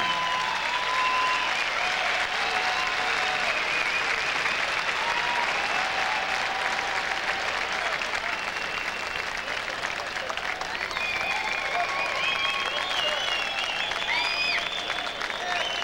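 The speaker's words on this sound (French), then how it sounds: "Let's applaud these 23 Stanley Cup." A large audience applauds Stanley Cup-winning hockey players in a long, steady wash of clapping, with faint voices and what sounds like background music mixed beneath.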